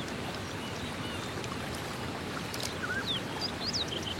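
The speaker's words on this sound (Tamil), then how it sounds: "ஓடுற தண்ணிடா," Running stream water flowing down from a hill, a steady close rushing wash that fills the whole stretch, with faint bird chirps on top and no talk.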